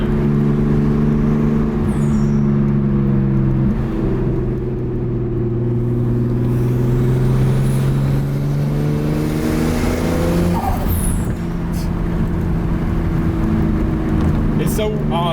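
Nissan Skyline R32 GTS-T engine revving up loud and close, its pitch climbing steadily with a gear change partway through, droning continuously under the cabin's road noise.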